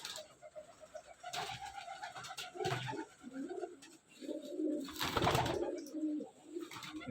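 Pigeons in a village loft, including racer, madraj and giribaz breeds, coo in low, throaty bursts at close range, with some rustling and a brief louder flutter midway and no voices.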